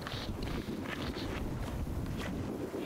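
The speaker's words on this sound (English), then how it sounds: "the wind is definitely whipping" Strong gusty wind buffets the microphone on an outdoor disc golf course, a steady low rumble with brief rushing swells and no voices.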